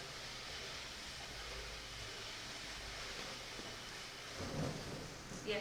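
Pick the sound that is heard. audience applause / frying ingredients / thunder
thunder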